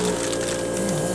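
Paint sprays onto a scale model of a Type 10 main battle tank with a steady, even airy hiss and a low hum beneath, continuous and close throughout.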